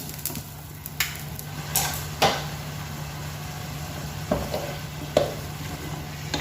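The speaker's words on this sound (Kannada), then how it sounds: "ಆವಾಗವಾಗ ಚಮಚ ಹಾಕಿ ತಿರುಗಿಸ್ತಾ ಇರಬೇಕು ಮಟನ್ ಚೆನ್ನಾಗಿ ಬೇಯಬೇಕು" Mutton masala with turmeric sizzling in a pot, stirred with a spoon that clinks against the metal side in scattered sharp knocks over a low steady sizzle and a faint hum.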